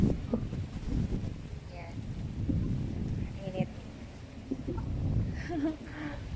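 Gusty wind buffets the microphone with a steady low roar, while faint voices talk intermittently underneath.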